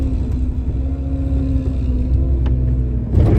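A vehicle stuck in snow, its engine straining at a steady loud drone with a low rumble, close, swelling louder near the end, with no voices.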